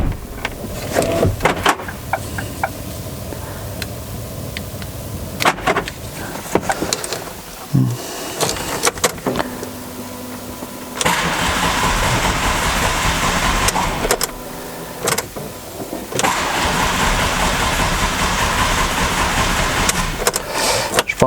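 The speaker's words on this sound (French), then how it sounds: "Alors ça démarre pas très bien, ça fait un moment qu'elle n'a pas tourné." A car engine cranks repeatedly and struggles to start after sitting unused for a long time. Loud, close starter whirring comes in bursts separated by short pauses, with no speech.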